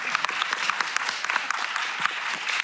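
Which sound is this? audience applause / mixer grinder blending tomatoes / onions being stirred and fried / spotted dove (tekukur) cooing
audience applause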